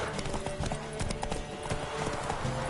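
A horse gallops in The Witcher 3 with quick, rhythmic hoofbeats, close and continuous, while a rider briefly urges it on.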